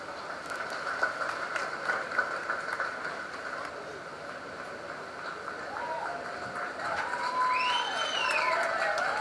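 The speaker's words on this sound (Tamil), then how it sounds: "இன்னும் நல்ல பெரிய கைத்தட்டல் கொடுங்க." An audience at the Tamil film Maaman audio launch applauds with a continuous wash of hand claps that swells toward the end, while a voice speaks over it near the close.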